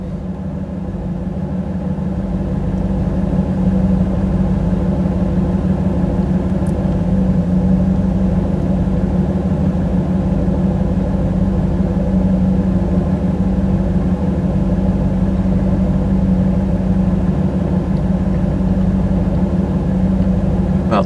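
A third-generation Camaro's 305 TPI V8 idles steadily after a hot restart, a low, even rumble that holds loud and close for about twenty seconds with no talking.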